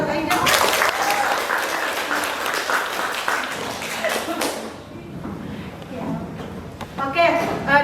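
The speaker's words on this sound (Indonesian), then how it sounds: "Untuk itu berikan tepuk tangan buat Aida" Classroom applause for a student answering correctly, a burst of many hands clapping for about four seconds before fading to murmuring students and a teacher's voice.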